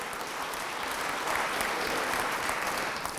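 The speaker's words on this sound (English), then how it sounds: "everyone should give them a round of applause" A legislature chamber full of people applauding, a steady, broad roar of many clapping hands heard from within the room, sustained at an even level throughout with no pauses or speech.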